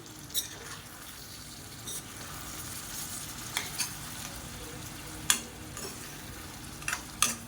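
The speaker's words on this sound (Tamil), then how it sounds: "இப்போ மறுபடியும் நல்லா பரட்டி விட்டுக்கலாம்" Egg thokku being stirred in a frying pan, a steady low sizzle with scattered spoon scrapes and taps against the pan, moderately close, with no talk.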